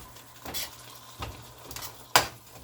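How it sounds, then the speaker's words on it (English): Chicken and shrimp fajitas cooking in a pan, heard as a few separate scrapes and clinks of stirring, with a sharper metallic knock near the end, over a faint low hum; no talking. "Let that simmer about for 10 minutes"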